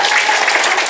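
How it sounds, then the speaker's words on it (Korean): Clapping from an audience at a patriotic song contest, a brief, loud burst of dense applause that fills the moment with no pause. "잘했다고 생각해주면 박수 치시고."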